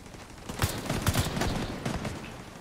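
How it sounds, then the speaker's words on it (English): A single-shot gun fires in The Division 2 on PC, several powerful, spaced shots with a booming low end, close and loud with no voices. "This bad baby shoot one shot at a time, but they some powerful ass shots"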